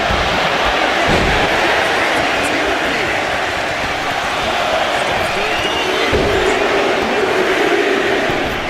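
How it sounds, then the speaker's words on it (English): A loud arena crowd in the video game WWE 2K25 roars and cheers continuously during a Royal Rumble match in a dense wall of noise, with an announcer's voice blending in at moments. "Look at this crowd."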